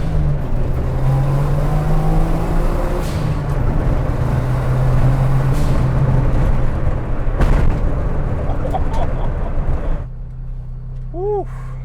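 A Suzuki Alto Works car's small engine drones loudly and steadily while driving in second gear, a close continuous roar that drops away sharply near the end.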